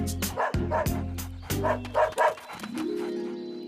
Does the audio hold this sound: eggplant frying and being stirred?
no